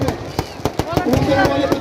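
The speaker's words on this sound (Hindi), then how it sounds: "मेघनाथ का पुतला धू कर जलता हुआ, मेघनाथ का यह पुतला और बहुत ही सुंदर आतिशबाजी।" Fireworks crackle and bang in rapid, irregular bursts as a Meghnath effigy burns at a Dussehra Ravan Dahan in a stadium in Roorkee, with a voice commentating over the loud, close popping.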